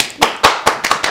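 Several loud, close hand claps land in an uneven rhythm, about five sharp slaps within a second, with nothing else around them.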